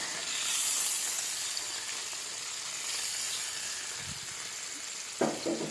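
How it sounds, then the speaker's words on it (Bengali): Mustard and onion paste drops into hot oil in a pan for a sour dish of brinjal, potato and hog plum, producing a soft, steady hissing sizzle with a couple of brief clatters near the end. "তেলটা হয়ে গেছে, এবার আমি এই সর্ষে বাটাটা দিয়ে দিচ্ছি, সর্ষে আর পেঁয়াজ বাটা।"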